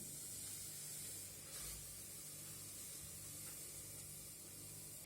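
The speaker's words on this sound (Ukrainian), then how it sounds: "Соду гасимо оцтом." Steady broadband fizzing hiss of baking soda reacting with vinegar, close and continuous for several seconds, with a faint low hum underneath and no talking.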